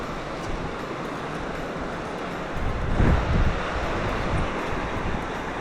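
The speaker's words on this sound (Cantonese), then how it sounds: "因為有條瀑布啊" A waterfall roars in a deep river gorge in the Iya valley of Shikoku, near a vine bridge. The rushing wash is steady and loud throughout and swells briefly at mid-point, with no voices heard.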